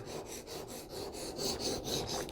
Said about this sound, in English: I want to create the bevels on either side of the knife, and so I'm just going with whatever bevel is already there. And back and forth.